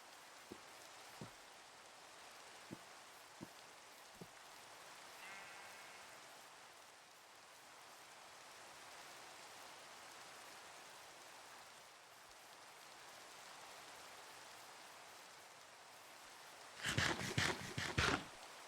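Steady soft rainfall hisses evenly throughout a Minecraft survival game, with a few faint clicks early on and a brief cluster of louder knocks near the end.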